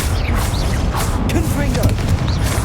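A disarming Expelliarmus spell is cast during a busy Hogwarts Legacy battle, a loud, crackling burst of magic among dense, continuous combat noise, with a voice heard over the din.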